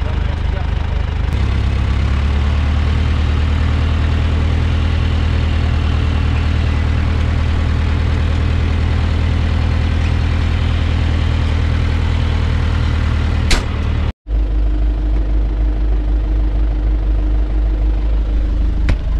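A tractor engine runs loud and steady inside the cab during harvest, a constant low drone that briefly cuts out near the end before resuming.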